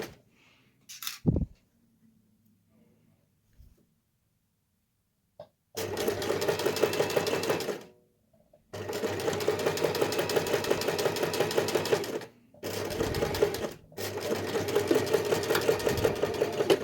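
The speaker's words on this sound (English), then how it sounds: "Making sure you are only sewing down what you're supposed to be sewing." Domestic sewing machine stitching a channel on a fabric water bottle carrier, several steady mechanical runs of a few seconds each with short stops between, after a quiet stretch of faint handling noise.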